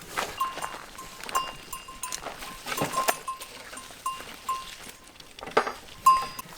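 Goats on a homestead during hot summer weather, heard through several scattered bleats and short calls over about six seconds, with light rustling and background noise around a shed.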